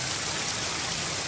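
Heavy rain pours down outside a house's main entryway, a dense, loud, steady hiss of falling water splashing on surfaces, continuous and close with no voices.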